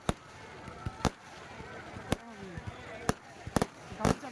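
Firecrackers burst at a Sri Muthumariamman temple festival in Dargahvalasai, Tamil Nadu: about eight sharp, loud cracks come at irregular intervals over a faint murmur of crowd and background noise.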